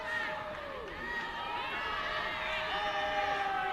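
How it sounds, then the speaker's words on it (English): Crowd cheering and shouting from the sidelines at a women's premiership rugby match between Manurewa Marlins and Mt Albert Lionesses, a steady roar under a commentator's voice. "Crowd urging her forward"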